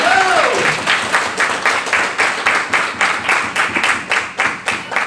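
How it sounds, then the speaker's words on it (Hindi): Applause from an audience gathered for a Netsurf Super 30 programme in Raipur, steady loud clapping throughout with a brief voice at the very start. "लेकिन तालियों से समझ में नहीं आ रहा कि जोरदार चल रहा है।"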